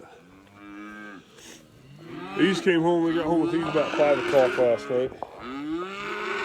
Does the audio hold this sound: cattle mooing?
yes